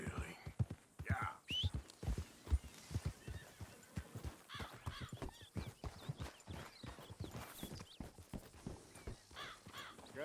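Horses whinny and hooves clip-clop nearby in a dramatized Western scene, with irregular hoof knocks, a few neighs and people talking over the animals.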